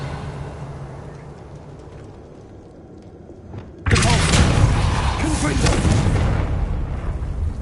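A Confringo blast spell erupts in Hogwarts Legacy: after a few quiet seconds, a sudden loud explosive burst hits and leaves a dense, rumbling roar that continues to the end.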